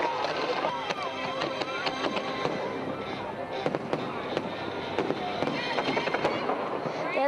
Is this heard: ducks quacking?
no